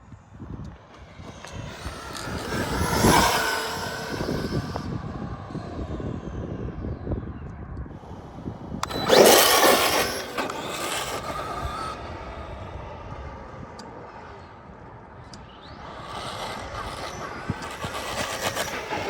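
Traxxas Maxx 4S RC car with steel driveshafts speeds past, its high-pitched motor whine rising and falling in two distinct close passes with a quieter stretch between, outdoors.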